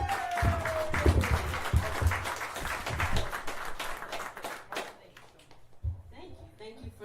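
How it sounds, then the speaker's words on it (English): Comedy club audience gives brief, fairly loud applause for a comedian taking the stage, then the clapping thins out and fades as a voice begins speaking. "Thank you for the applause."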